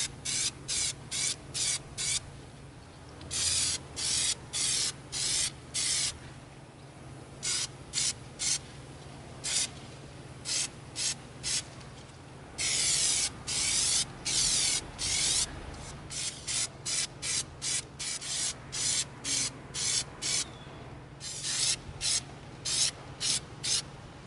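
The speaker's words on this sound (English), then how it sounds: "We're going to begin coating Jett's Knife with our Plasti-Dip." Plasti-Dip spray cans coating an EVA foam knife, with many short hissing bursts of spray separated by brief pauses, close and fairly loud throughout, with no one talking.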